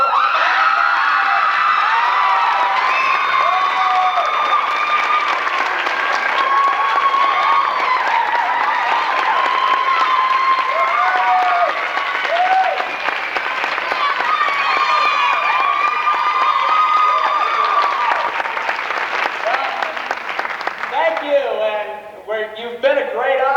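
A school play audience applauds and cheers at the curtain call of Nancy Vogel's Done to Death, steady loud clapping with whoops and children's shouts for over twenty seconds, thinning near the end.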